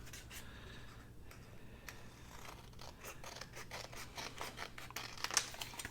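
Scissors trimming thick book page paper, a quiet, close run of repeated snipping and crisp paper rustle, with a sharper cut near the end.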